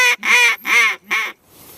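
A duck call blows three loud, nasal quacks strung close together in an even rhythm, each a short honking burst. A soft breathy tail follows.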